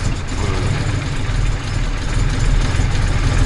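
A classic Jaguar Mk2 engine, fully restored, idles loud and close with a steady deep rumble and a slight rise in revs toward the end.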